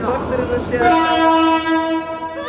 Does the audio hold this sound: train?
yes